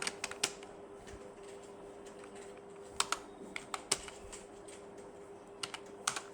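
Keys clack on a computer keyboard as a company name is typed into an Excel bill entry, coming in irregular bursts of close, crisp taps with short pauses between them, no talking.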